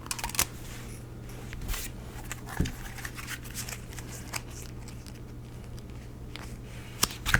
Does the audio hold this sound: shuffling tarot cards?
yes